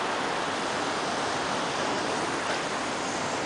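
Ocean waves wash onto a beach in Jamaica as a dense, steady roar of surf filling the whole moment, loud and close, with no voices.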